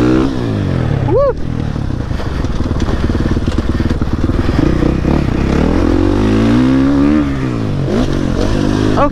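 A motorcycle ridden hard through gear shifts, its engine note rising and falling in loud revs and drops close up, with a brief rider exclamation and wind buffeting throughout.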